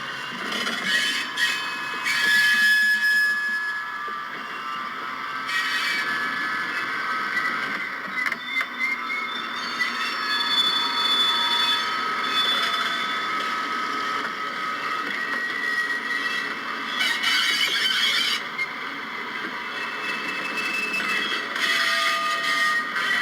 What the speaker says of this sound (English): So let's go ahead and do some shunting.